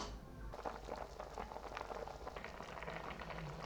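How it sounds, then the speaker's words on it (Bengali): Chicken stew bubbling uncovered in a pot, seasoned with black pepper, giving a steady dense burble of small pops and spatters with a low rumble underneath, continuous and close, no voices. "আবারও তিন থেকে চার মিনিট ভালো করে ফোটাতে থাকবো এবার আর ঢাকা দেব না"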